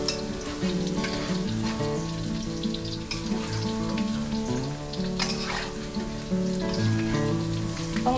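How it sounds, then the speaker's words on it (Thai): Banana slices deep frying in hot oil for butter-coated banana chips give a steady crackling sizzle throughout, partly masked by tonal background music. "เราจะแบ่งทอดทีละครึ่งก็ได้นะ ถ้าเกิดว่า เราได้กล้วยเยอะนะคะ"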